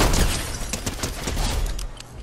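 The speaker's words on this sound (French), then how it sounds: "c'est moi qui tire là" Loud rapid gunshots from the player's weapon in Fortnite pop in a fast irregular string, close and punchy, filling the short stretch with dense cracks.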